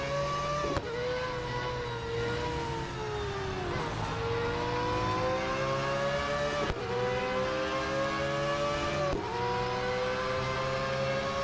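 Mazda 787B race car engine in Real Racing 3, a loud continuous high-pitched rotary wail with harmonic tones climbing under acceleration, dropping sharply at gear changes about three times, then rising again.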